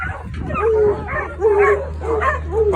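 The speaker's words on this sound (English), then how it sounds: "I got that dog with me." A dog barks and yips in a quick run of several close, loud barks with a whimpering edge, outdoors at a barbecue event.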